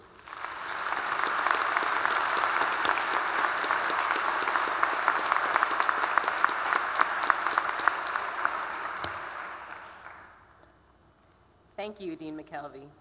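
A commencement audience at a Stanford engineering graduation applauds to welcome a student speaker to the podium, sustained loud clapping for about ten seconds that fades out, followed by a voice speaking.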